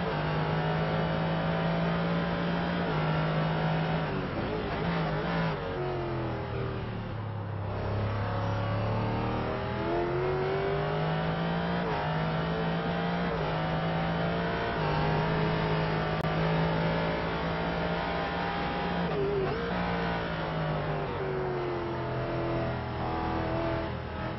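Ford GT race car on the Motegi circuit in a racing game, its engine droning loud and close with pitch climbing through gears, dipping on braking and revving back up repeatedly across the lap.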